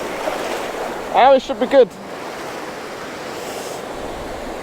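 Ocean surf rolling onto a shore at a seascape photography spot, a continuous broadband rush of waves under steady wind, with someone speaking briefly in the middle.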